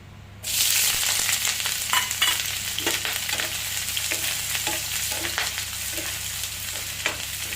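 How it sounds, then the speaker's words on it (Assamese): Chopped onions hit hot oil in a heated wok, bursting into a loud, continuous frying sizzle after a brief quiet start, with scattered crackles and pops across the whole stretch. "এয়া কেৰাহীখন গৰম কৰিলোঁ গৰম কৰি ইয়াত তেল দিলোঁ এতিয়া মই ইয়াত পিয়াজখিনি দি দিম"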